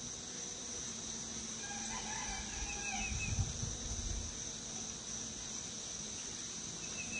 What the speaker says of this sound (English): That rooster's chasing after a chicken.